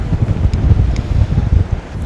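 Wind at Urangan Pier in Hervey Bay rumbles against the microphone in steady low gusts, close and fairly loud, with no voices.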